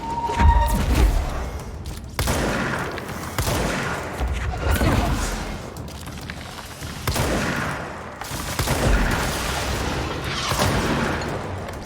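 A weapon in the video game Control fires like a rifle, with repeated heavy booming shots every second or two over a steady rumble of game background sound.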